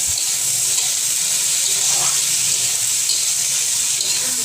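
Tomatoes dropped into a hot pan for paneer butter masala give a loud, steady hiss of sizzling and spattering oil, close up and continuous, with no voices.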